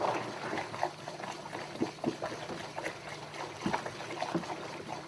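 Water and grape juice stirred in a wine-making bucket, a soft, faint sloshing and swishing with scattered small splashes and knocks recurring irregularly over several seconds.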